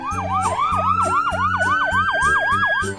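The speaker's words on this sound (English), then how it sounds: "Look, there comes an ambulance." A cartoon ambulance siren wails in rapid repeating up-and-down sweeps, loud and close, over a looping musical backing track with no talk.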